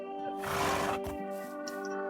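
A horse in a video game lets out a loud, close neigh that rises and fades within a second or two over a steady tonal game background.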